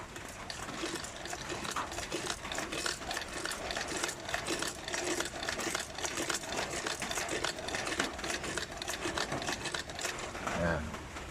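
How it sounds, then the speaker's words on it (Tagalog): New manual sewing machine running on test, a fast steady mechanical rattling and whirring needle rhythm, close and continuous, with a person talking over it. "yung in-order natin na manual na sewing machine guys. Maingat ang pagka-packing. Walang damage. Testing natin guys."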